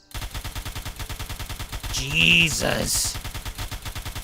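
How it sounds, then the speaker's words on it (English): Rapid automatic gunfire from a rifle in Fallout 4, a steady stream of loud, evenly spaced shots running through the whole stretch, with a brief exclamation from a player partway through. "I'm gonna reload and try and actually control the recoil this time"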